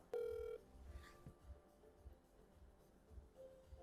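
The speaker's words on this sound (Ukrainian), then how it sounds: "Микола Васильович е, дзвонимо в WhatsApp." A WhatsApp call ringing tone: one loud, steady electronic tone lasting about half a second, then quieter ringback-like tones under background hum, and a faint tone again near the end.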